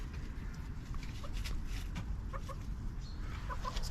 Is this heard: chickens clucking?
yes